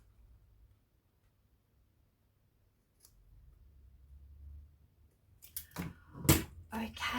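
Near silence gives way to a short series of close, sharp scissor snips through a paper journal card, clustered at the end.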